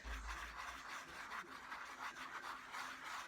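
A toothbrush scrubs a leather saddle in steady back-and-forth strokes, a close, continuous raspy rubbing with a soft pulsing rhythm and no talking.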